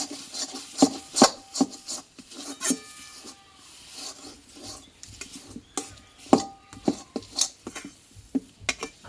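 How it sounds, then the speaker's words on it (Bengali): Potol curry filling with chopped coriander being stirred in a pan, a spoon scraping and knocking against the metal in irregular bursts, close and moderately loud, with no talking. "ধনের পাতাটা দিয়ে আমি আরও কিছুক্ষণ মতো নাড়াচাড়া করে নেব"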